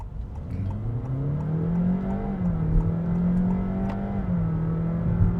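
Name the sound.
Honda HR-V e:HEV hybrid accelerating, transmission ratio changes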